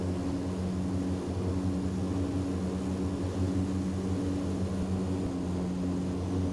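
Metroliner III twin-turboprop aircraft in a flight simulator, a loud, steady propeller drone with strong low tonal hum held evenly throughout, with no speech.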